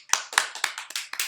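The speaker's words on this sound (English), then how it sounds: "Put your hands together for Phoebe one more time" An audience applauds a guest named Phoebe with a short burst of hand claps, several distinct sharp claps in quick uneven succession, close and fairly loud.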